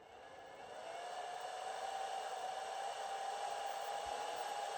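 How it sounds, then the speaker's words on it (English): A small Harbor Freight solar inverter's cooling fan producing a faint, steady whir with a smooth airy hiss that swells slightly in the first second and then holds level, with no one speaking. "some people have complained about the noise of the fan of this little inverter"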